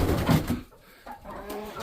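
Chickens cluck inside a coop, a few loud close clucks at the start, then a pause and softer bird calls trailing off.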